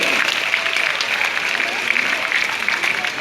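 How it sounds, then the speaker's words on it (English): A crowd at a live show with a bird act in Singapore gives a round of applause, a dense, steady patter of clapping hands filling the space, fairly loud and unbroken for the whole stretch. "How about a nice round of applause for Pao, ladies and gentlemen?"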